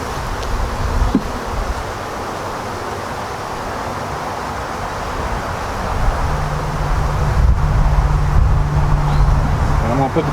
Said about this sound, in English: This hive is going to have a lot of bees in it.